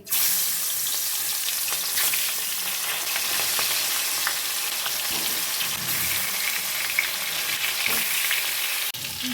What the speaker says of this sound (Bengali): কড়াইতে সর্ষের তেল দিয়ে দিলাম তেলটা গরম হয়ে গেছে মাছগুলো আমি ছেড়ে দিচ্ছি